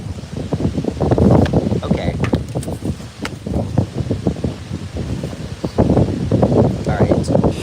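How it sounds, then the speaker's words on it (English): Wind gusts outdoors at a pond, buffeting the microphone in a steady low rumble with brief rustling surges, while a person talks close by over it. "Wow, it's really windy today."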